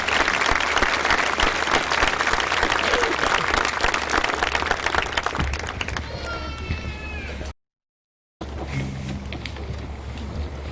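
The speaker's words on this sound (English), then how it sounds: "Let's give another round of applause for the choir for that excellent performance." Commencement crowd applauding the choir after its performance, loud dense clapping with cheering that thins out, then a brief gap of silence followed by quieter room sound.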